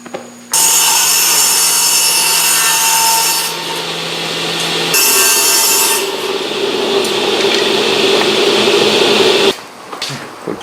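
Hand sawing through a wooden board for a spice rack in a Japanese woodworking shop, a steady rasping stroke that runs loud and close for several seconds, pauses briefly, then resumes before stopping.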